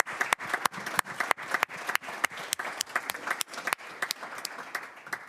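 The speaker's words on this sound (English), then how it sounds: "let's give a round of applause to Dr. Sinclair." Applause at a public school board meeting, a room of people clapping steadily with sharp individual claps standing out, fairly close and continuous, with no talking over it.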